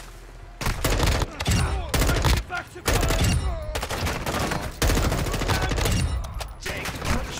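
Rapid bursts of automatic gunfire and overlapping shots ring out in a Call of Duty Modern Warfare II DMZ match, loud and repeated with brief gaps, while a player talks over the shooting.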